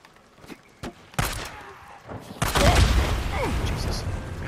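A building explodes in the video game Days Gone: a few sharp cracks lead into a heavy boom, then a sustained loud rumble that carries to the end, with voices partly under it.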